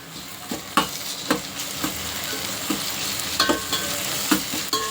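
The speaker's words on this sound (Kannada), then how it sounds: "ಇದು ಚೆನ್ನಾಗಿ ಸ್ವಲ್ಪ ಹಸಿ ವಾಸನೆ ಹೋಗೋಗಂಟ ಫ್ರೈ ಮಾಡೋಣ" Onion with ginger and garlic fries in a pan, hissing steadily while a spoon or spatula scrapes and taps the pan in repeated stirring strokes. The stirring is close and fairly loud, and no one speaks.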